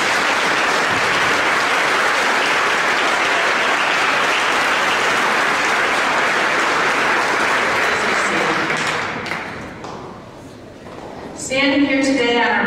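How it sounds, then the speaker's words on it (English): A graduation ceremony audience gives sustained, loud applause for about nine seconds. It then dies down and a speaker's voice follows at a podium. "Please join me in a round of applause for these individuals."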